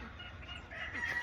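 Chickens cluck and a rooster crows faintly at a farmyard feeding spot, a short, quiet burst of fowl calls with no talking.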